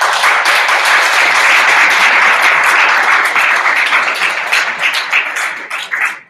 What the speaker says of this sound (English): let's give our speakers a big round of applause.